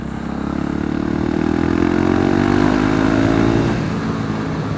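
A 2016 Husqvarna 701 supermoto motorcycle idles steadily and fairly loudly for a few seconds, a low rumbling exhaust note with a slight rise in pitch, no talking.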